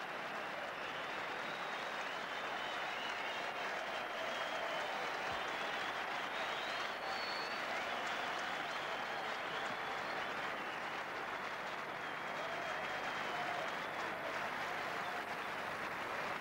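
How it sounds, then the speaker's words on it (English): Spectators at Eden Park in Auckland applauding Richard Hadlee's half century during a 1990 cricket Test against India, a distant, sustained wash of clapping across the ground that holds steady throughout. "Sustained applause for one of Eden Park's favourite sons, Richard Hadlee"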